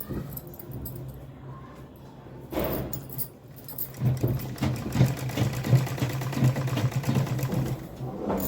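Electric sewing machine stitching a folded seam on a full-collar suit neckline, a steady running whir with rhythmic bursts that grows louder and busier in the second half, heard alone without talk.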